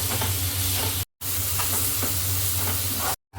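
Onion fries in a pan for Malvani-style prawn curry, giving a dense, even sizzle with light stirring scrapes, close and steady, cut by two short dropouts of silence.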